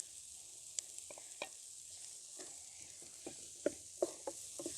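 Boiled mashed potatoes cook with spices in a pan, with a constant hiss of sizzling oil and scattered scraping clinks as a spoon stirs, close and without any voice.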